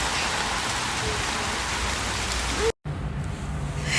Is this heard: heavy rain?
yes